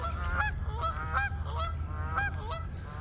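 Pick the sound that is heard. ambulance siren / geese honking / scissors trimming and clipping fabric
geese honking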